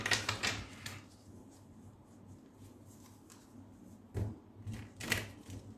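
Star Spinner tarot cards are shuffled in uneven riffling bursts, with crisp papery flutters at the start and again near the end and softer handling sounds in between.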